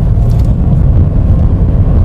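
Cabin of a Mitsubishi Mirage rolling along a macadam road, with a loud, even low-frequency road rumble and no voices.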